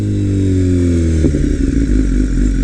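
A 2018 BMW S1000RR sportbike fitted with an Akrapovic exhaust revs sharply, its engine note climbing then dropping into a rough, crackling idle, loud and close with no speech.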